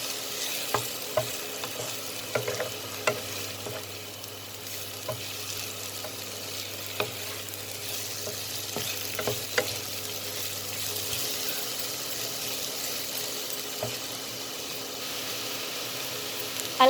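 Mushrooms and vegetables frying in a pan are stirred, a soft steady sizzle broken by frequent clicks and scrapes of the spoon, fairly quiet throughout.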